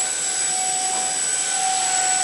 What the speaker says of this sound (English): This helicopter will do anything you tell it to.